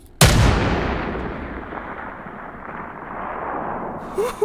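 A single booming shot from an AR-50a1 anti-materiel rifle in the H3VR virtual reality game, fired in a forest setting, followed by a long rumbling tail that rolls away over several seconds.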